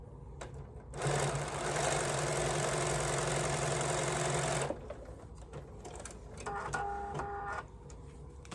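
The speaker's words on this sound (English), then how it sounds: "And then just go ahead and sew that." A sewing machine stitches a foundation paper-pieced snowflake quilt block in one steady burst of about four seconds. Quieter handling sounds and a short mechanical whir follow.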